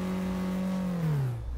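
A car engine in the racing game Midnight Club 3: Dub Edition, a steady mid-pitched drone that dips and winds down toward the end, heard alone.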